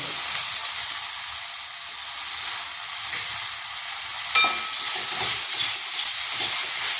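Biryani masala sautéing in a pan, a steady bright hiss of frying with a few utensil clinks and stirring scrapes partway through, no speech.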